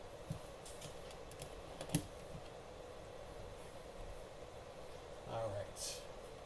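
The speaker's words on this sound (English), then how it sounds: "it's going to take me a couple of minutes to type all these names in" Scattered keystrokes on a computer keyboard while names are typed, soft irregular clicks with a sharper tap near two seconds, over a low steady background hum and a brief voice or noise burst near the end.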